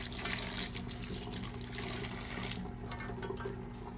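Menudo tripe is rinsed under a running kitchen tap, with a steady close hiss of water splashing into the sink that eases slightly toward the end. No one speaks.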